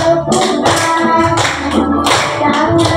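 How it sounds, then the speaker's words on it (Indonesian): Children clapping hands in rhythm during a classroom dance, several sharp bursts of claps over music with a singing voice and background noise, fairly close and loud. "bertepuk-tepukan"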